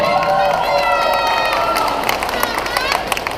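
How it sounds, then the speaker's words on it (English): Graduation audience cheering and clapping in a school ceremony hall, a dense crowd roar with whoops and scattered claps that stays steady and loud throughout. "let's give her a round of applause, Ms. Janelle Harper."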